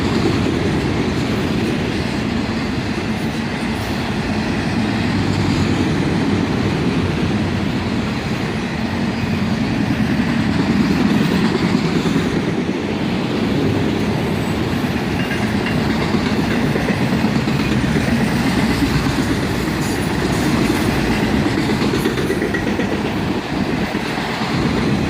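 An autorack freight train rolls past close by with a continuous heavy rumble and rhythmic wheel clatter that stays loud and even for the whole stretch, no voices.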